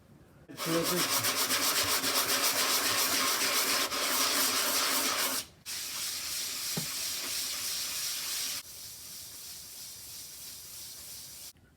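A metal aluminium inlet manifold for a supercharged Honda postie bike is sanded flat, giving loud, steady broadband rubbing strokes that pause briefly, then resume at a slightly lower level in close-up with no talk.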